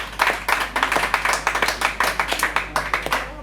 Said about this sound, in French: Est-ce qu'on peut applaudir pour elle tout de même?